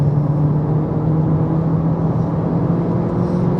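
Renault Clio 200 Turbo engine pulling hard up through second gear, a steady loud droning hum with a sustained low tone and road rumble from inside the cabin.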